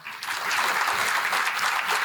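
An audience at an education lecture breaks into applause, starting after a brief quiet moment and then holding as a dense, loud, continuous clatter of many clapping hands.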